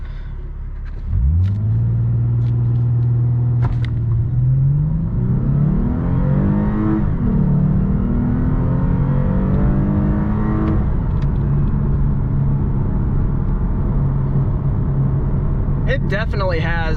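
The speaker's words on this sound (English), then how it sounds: "We'll go ahead and do a 0 to 60 run here. I got it in Sport Plus mode." A 2015 Lexus RC350 F Sport in Sport Plus mode with traction control off launches from a standstill and accelerates hard, its engine note rising through the gears from inside the cabin, loud and continuous.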